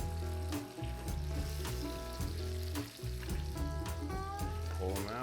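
Breaded chicken wings deep fry in 350-degree oil, a steady, close crackling sizzle with scattered pops and bubbling over a low background hum.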